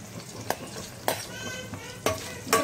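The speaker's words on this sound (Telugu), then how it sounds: "వీటిని బాగా ఫ్రై చేసుకుందాం." Curry leaves and green chillies fry in a hot pan, a soft continuous sizzle punctuated by four sharp utensil scrapes and clinks of stirring.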